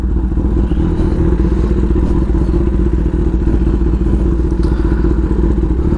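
A Kawasaki ZX-10R motorcycle runs close and loud, its engine giving a steady, throbbing rumble throughout with no voices over it.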